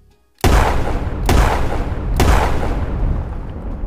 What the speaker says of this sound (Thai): เสียงปืนดังขึ้นเอ็ดอึงทียิบ